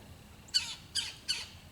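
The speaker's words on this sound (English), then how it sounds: "And that bird is just really active, isn't he?" A bird near a lake squawks three times in a row, sharp harsh calls spaced about a second apart, fairly close and loud over a quiet background.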